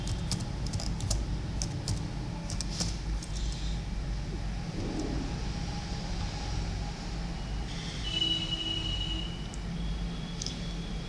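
A computer keyboard clicks in scattered keystrokes while data is entered into an Excel spreadsheet, fairly faint over a steady low hum of room noise.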